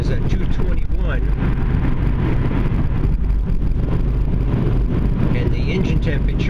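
Interior cabin noise of a 1999-2004 Jeep Grand Cherokee at 66 miles an hour on the highway, a loud broadband road and wind roar that stays steady throughout, with no talk.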